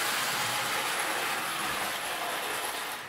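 A 1930s Hoge 900 toy locomotive runs along its track with a steady, fairly quiet rolling rattle and whir that fades slightly at the end.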